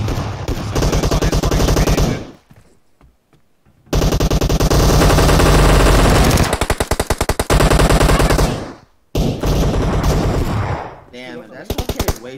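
Loud sustained automatic gunfire from a team deathmatch shooter game, dense bursts filling most of the clip with a couple of brief pauses and a short final volley, no talk over it.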